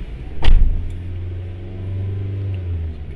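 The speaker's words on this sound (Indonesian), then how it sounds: "Di sini kita injak pedal gas kembali." A Toyota Avanza engine revs when the gas pedal is pressed, rising into a loud, steady drone after a brief sharp click near the start, then easing off toward the end; no voices.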